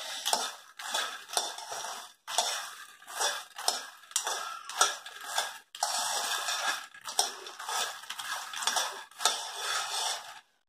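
Makhana (fox nuts) tossed and stirred in a pan with a metal spatula, making continuous dry rattling and scraping in steady repeated bursts, close and fairly loud.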